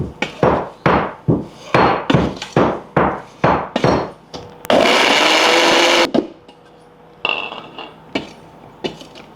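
Garlic pounded for a drumstick leaf chutney, about a dozen sharp, loud, evenly spaced thuds, broken by a burst of steady grinding noise, then a few more knocks.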